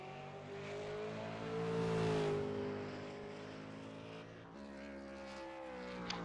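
Race cars lapping a circuit: sustained engine drone swelling as a car approaches and passes, then a shift to another engine note, fairly distant and faint, no talking.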